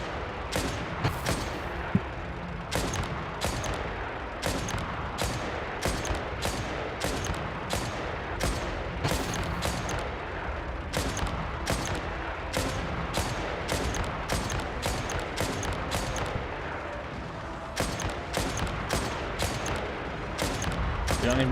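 Sustained volleys of gunfire from sniper robots in a video game, rapid irregular cracks repeating throughout over a dense battle din, loud and continuous.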